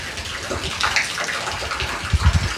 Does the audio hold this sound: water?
yes